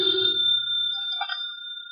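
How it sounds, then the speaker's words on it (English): A telephone rings in a quiet room, its steady electronic tone holding for about two seconds with a brief low rumble at the start and no voices. "Never ignore a phone call."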